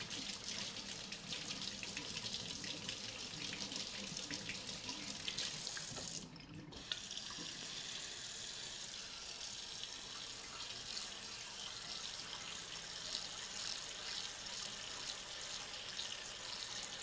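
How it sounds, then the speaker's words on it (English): Tap water running into a cooking pot that will boil chicken breasts in a home kitchen, a steady close rushing stream that keeps going with a brief dip partway through, no voices. "I'm gonna boil some water for the chicken breasts"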